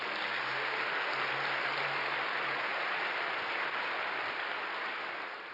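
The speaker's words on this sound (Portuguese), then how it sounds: "Pode dar um aplauso ao Senhor." A church congregation claps together at a Sunday service, steady dense applause that holds for several seconds before easing slightly at the end, with a faint low hum underneath.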